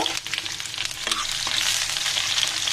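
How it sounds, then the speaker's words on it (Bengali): Chopped onion and five cloves of garlic frying in hot oil, a steady close sizzle and crackle with light stirring throughout, no voices. "এবার তেলের মধ্যে এগুলো ভেজে নিব"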